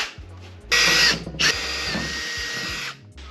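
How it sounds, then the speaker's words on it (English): A power drill whines loudly in two bursts, the first short and the second sustained, its pitch wavering as it bores holes, fitting a headliner shelf in a Ford Transit van. "drilling those holes out with a 732 drill bit for the sides and then a 932 in the middle"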